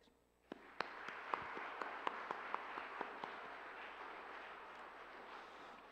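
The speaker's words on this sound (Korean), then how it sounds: "박수 한번 부탁드립니다." A church congregation applauding at a pastor's retirement and emeritus installation service, steady broad clapping from the whole room with a few sharper individual claps standing out, sustained for several seconds without talk.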